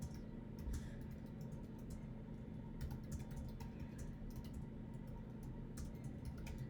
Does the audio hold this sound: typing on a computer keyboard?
yes